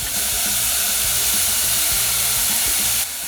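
Paprika and other spices sizzling in hot oil in a pan, a steady loud hiss and crackle that runs without a break, with faint knocking underneath and no talking.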